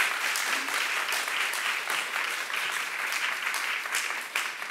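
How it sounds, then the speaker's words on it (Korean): A church congregation claps together at a worship service, a steady, sustained patter of many hands at moderate loudness that carries on without pause. "믿는 사람 박수 한번 쳐봐"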